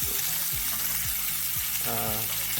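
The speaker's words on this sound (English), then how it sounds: "You want to make sure the oil is nice and hot just before it starts smoking. Add the meat." Pieces of pork meet very hot oil in a pan and set off a loud, steady, close sizzle that runs unbroken the whole time, with no talking over it.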